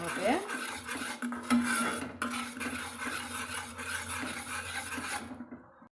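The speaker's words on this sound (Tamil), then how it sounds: "இது போல் நம்ம கலந்து விட்டோம்னா கட்டியெல்லாம் கரைஞ்சிருங்க" A spoon scrapes and rubs around a pan as pearl millet flour Mysore pak mixture is stirred, a steady close rasping with light metallic clinks and no talking.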